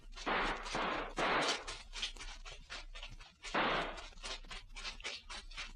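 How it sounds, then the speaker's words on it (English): Gunfire bursts and volleys in an old radio drama about border refugees, loud crackling shots in clustered rounds with echoing tails, no talking during the firing. "Schießen, Sie schnell. Jawohl, Herr Ramlen. Ackland, Feuer"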